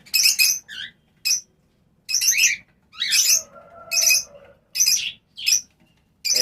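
Local home-bred lovebirds in Udaipur give bursts of sharp, high chirps and squawky tweets in quick irregular clusters, close and fairly loud, with brief quiet gaps between calls.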